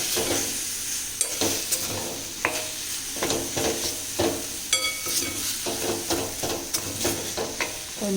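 A spoon stirs aratikaya (raw banana) upma curry in a frying pan, giving repeated scraping and clinking strokes over a constant soft sizzle, close and without talk.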